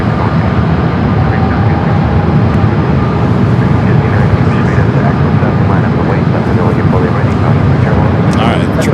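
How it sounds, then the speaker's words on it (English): A Boeing 777 on its takeoff roll down runway 24 left at Los Angeles, bound for Hong Kong, gives a steady, loud engine roar that holds throughout, with talk over it. "777 rolling down at 24 left"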